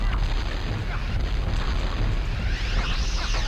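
Rocket launcher blasts in the video game Rayman 2 Revolution, a continuous loud rumbling roar of booming bursts with a rising whoosh near the end, no voices.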